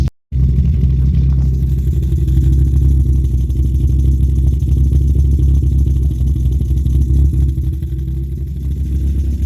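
Volkswagen Golf Mk1 engine fitted with a 272-degree camshaft, running at a steady close-up idle-to-light-rev drone with a mechanical clatter throughout and no talking.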